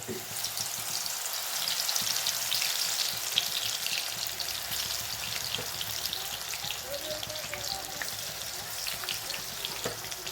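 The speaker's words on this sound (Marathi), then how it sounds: "अशा पद्धतीनं आपलं तेल हे तापलेलं आहे आपण आता पालक भाजी सोडून घेऊया" Spinach pakoras deep-fry in hot oil with a loud, steady, crackling sizzle that fills the whole stretch, close and continuous with small pops and no talk.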